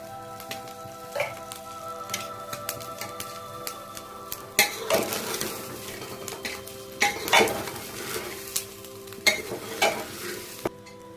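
Rice frying in a pan with carrots and beans for veg pulao, a steady sizzle broken by repeated clanks and scrapes of a spoon stirring against the metal, loud and close.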